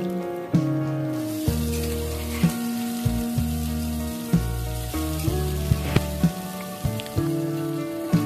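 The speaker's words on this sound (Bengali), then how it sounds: "সেই সেদ্ধ আলুটাও কিন্তু পটলের সাথে একই সাথে আমি ভেজে নিচ্ছি।" Pointed gourd and boiled potato fry together in a pan, giving a steady sizzle that sits beneath prominent melodic background music with regular note changes.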